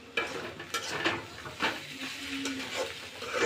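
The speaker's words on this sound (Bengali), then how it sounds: "ভাজিটা এবার আমি ভালোভাবে নেড়ে চেড়ে দেবো" Bottle gourd peel fry being stirred in a pan, soft sizzling under a series of spatula scrapes and knocks against the metal, close and moderately quiet.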